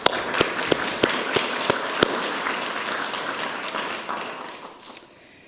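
A church congregation claps in a meeting hall, a few distinct sharp claps standing out over a rippling mass of hand-clapping that fades away toward the end.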